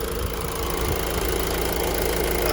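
A 2013 Honda CR-V engine idles in a steady, even rumble, close and constant throughout with no voices.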